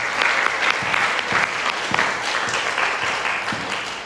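A church congregation in Jeju gives sustained applause to the kitchen staff and helpers, a thick, even wash of clapping with a few sharper claps standing out.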